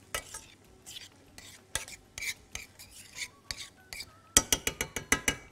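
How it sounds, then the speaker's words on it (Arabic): Onions are turned in hot oil in a pan, with uneven spoon scrapes over a low sizzle, ending in a quick run of sharp metallic clicks close by. "اقلبه بس تقليبه كده في الزيت"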